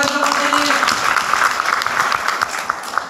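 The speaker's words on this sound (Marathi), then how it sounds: "टाळ्या वाजवायच्या." Students in an audience at a college National Service Scheme day lecture clap together, a dense, steady burst of applause filling the hall for a few seconds with faint voices mixed in.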